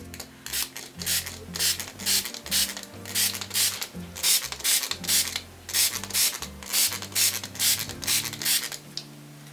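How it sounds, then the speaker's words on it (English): Repeated pumps of a handheld spray bottle misting water onto a mixed-media paper piece with purple and green colour, about a dozen short hissing bursts in an uneven rhythm, each with a faint plastic click, close up. "I'm going to just spray it with my water bottle"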